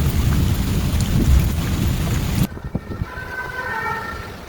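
Heavy rain pours in a dense roar during a thunderstorm, then abruptly thins to scattered drips and patter with faint tonal sounds in the background.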